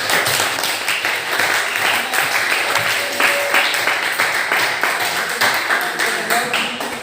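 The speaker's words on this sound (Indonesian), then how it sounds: "Yuk, sekali lagi berikan tepuk tangan yang meriah." Classroom applause fills the whole stretch as a dense, steady patter of many hands clapping at close range, with faint voices mixed in.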